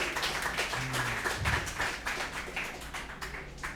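Church congregation clapping together during a Sunday worship service, a steady dense patter of many hands sustained throughout, fairly close and loud with no talk over it.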